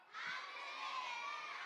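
A crowd of children shouts together at a church prayer service, one sustained loud roar of voices that holds steady before fading.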